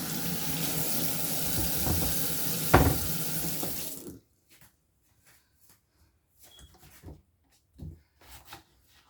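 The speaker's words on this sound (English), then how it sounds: "I do have to rinse this off." Running water from a kitchen tap splashes steadily as onion is rinsed off, close and fairly loud for about four seconds, then cuts off to near silence broken by a few small handling knocks and clatters.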